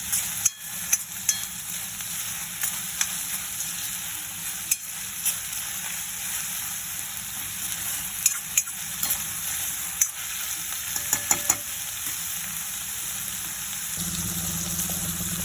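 Green chillies and garlic paste fry in hot oil for Chettinad pepper chicken, a steady close sizzle broken by occasional sharp clicks of a stirring spoon.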